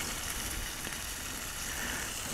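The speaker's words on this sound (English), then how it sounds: "Instant sizzle, gotta love it." Spam sizzles in a hot oiled frying pan outdoors by a lake, a steady crackling hiss with tiny pops, close and moderately loud, with no one talking.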